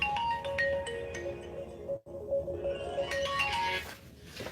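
A phone ringtone plays a repeating melodic tune at moderate volume, breaking off briefly midway before resuming, with a busy background behind it.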